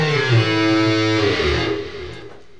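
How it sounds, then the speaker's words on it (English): A lead synthesizer patch on a Korg Microstation keyboard, with a bright, buzzy, distorted tone and a downward pitch bend, held and sliding for a couple of seconds before fading, with no talking. "show off my new Korg Microstation keyboard that I'm starting to use now for lead synthesizers"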